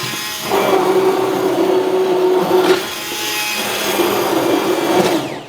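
A loud, steady electric motor whine with a harmonic hum from an immersion blender pureeing onions, briefly easing near the middle before continuing.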